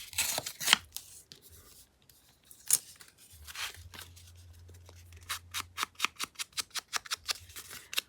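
Paper pages are torn along their edges in short ripping bursts, first scattered and then a rapid run of crisp tears near the end, close up with no speech.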